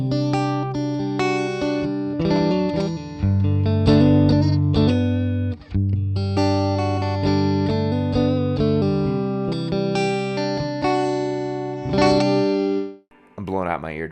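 Electric guitar played through a 1966 Fender Deluxe Reverb blackface amp with the volume turned up for grit, ringing loud, overdriven chords and note runs that sustain continuously before a brief dip and a final sliding phrase.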